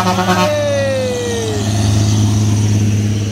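A loaded trailer truck roars at full throttle climbing a steep hill, its deep engine drone loud and close with a falling tonal whine, while people talk excitedly over it.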